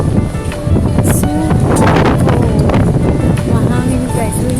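Strong wind on Gewan Island in Doha, Qatar, roaring continuously into the microphone with heavy buffeting, loud and close, while people talk underneath.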